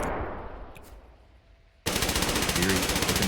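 Automatic weapon fire from a competitive arena shooter game, The Finals, starts abruptly partway through and continues as loud, dense rapid bursts after a quieter stretch of ambient game noise.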